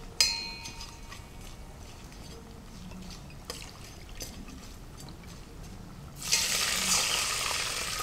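Water poured into a pan of frying biryani spices with cashews before basmati rice goes in, a sudden loud hissing rush in the last two seconds after quiet kitchen background.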